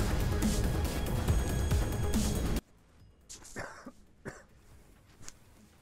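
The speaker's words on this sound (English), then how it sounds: "Got a little cough breathing going on." A person playing the online game Robocraft coughs several times, close and fairly soft, in an uneven run of rough bursts. Loud game noise plays before it and then cuts off.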